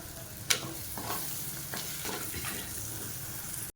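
Tomato masala for a spicy goat intestine gravy sautés in a pan with a soft steady sizzle, a sharp spoon knock near the start, then scraping stirs, close and quiet.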